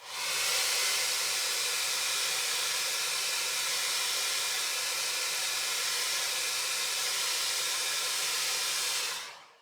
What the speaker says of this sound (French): un petit coup de sèche-cheveux pour la chaleur